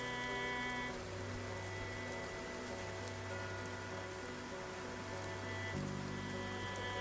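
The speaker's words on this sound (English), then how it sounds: "It's been raining and it's so cold" Steady rain falling in Project Zomboid, an even wash of drops on surfaces that continues without pause beneath a low droning tone, moderately loud and close.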